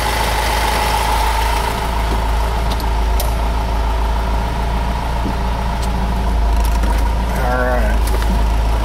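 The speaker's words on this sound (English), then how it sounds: "And hear that little inline 4 run." A 1962 Mercedes-Benz 190 SL's small inline-four engine idles steadily and close, a constant low mechanical hum with faint ticks running throughout, while a voice speaks briefly near the end.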